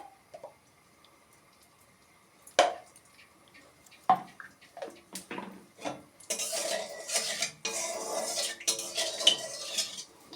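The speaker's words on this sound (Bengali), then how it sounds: "এই তেলের মধ্যে আমি একটু ঘি দিয়ে দেবো।" Ghee added to hot oil in a pan for egg polao: scattered metal utensil clinks and knocks at first, then a louder sustained sputtering sizzle with more clattering.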